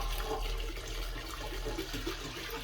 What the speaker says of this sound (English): we're going to pour in the milk mixture and then whisk and combine.